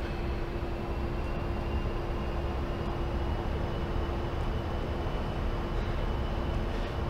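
Steady loud roar of an A-10C II jet's engines during takeoff in the flight simulator DCS World, a constant broadband rumble with a sustained whine, close and unbroken, no voices.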